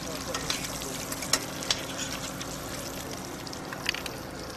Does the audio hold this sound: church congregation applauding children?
no